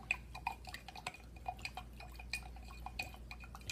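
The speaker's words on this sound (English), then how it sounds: "take your borax mixture you made, stir it up again" A borax mixture for homemade slime is stirred, with a utensil lightly clicking and clinking against its container in a quick, irregular stream of small, close, fairly quiet taps and liquid drips, with no voices.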